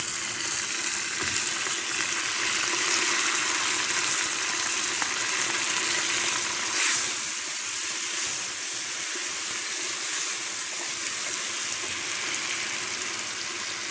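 Onions frying in a pan for mutton paya give off a continuous, even sizzle, steady and fairly loud throughout with no talking.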